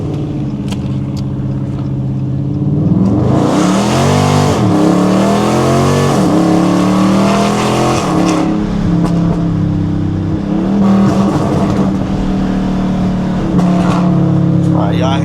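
A cammed Dodge Challenger R/T accelerates hard through a bridge underpass and into a tunnel, its engine note climbing through gears in loud, rising sweeps with a choppy idle between pulls, recorded from inside the car as people talk.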